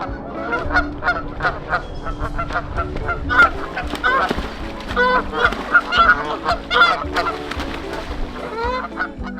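Geese honk loudly and continuously at a nesting site near Chilliwack, British Columbia, several birds overlapping in a harsh, agitated squabble, with busy honks and flapping-like bursts throughout.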